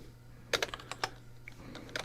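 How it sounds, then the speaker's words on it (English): Fingers typing on a computer keyboard at close range, a quick irregular burst of clicking keystrokes with short pauses, over a low steady hum and without talk. "And I can't type today, sorry."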